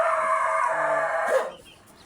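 Nearby chicken giving a drawn-out crowing call with clucking, fairly loud, then breaking off into quiet background.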